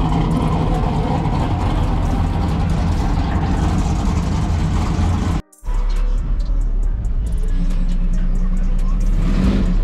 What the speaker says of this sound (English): Time to pull the cars off the trailer.